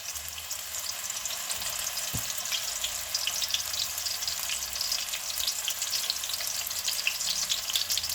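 Continuous crackling sizzle of onion frying in hot oil, steady and close, with a single soft knock partway through.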